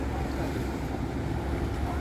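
A boat in Dordrecht harbour churns along amid steady wind and water wash, a continuous low rumble close to the microphone with no pauses.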